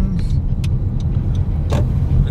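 A car rolls into the crowded parking lot at Seven Magic Mountains near Las Vegas, giving a steady, close engine and road rumble throughout with a few light knocks over it.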